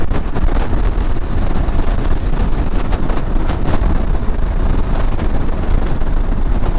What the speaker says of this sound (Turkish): Rüzgar coşmaya başladı yine.